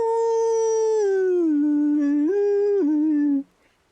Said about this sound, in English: a howl from up ahead. You can hear it echoing off of the walls of some canyon-like feature